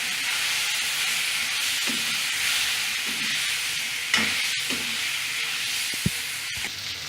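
Paneer frying in a pan with curry leaves, onion and tomato gives a steady close hiss and sizzle, broken by a few sharp scrapes and clinks of stirring.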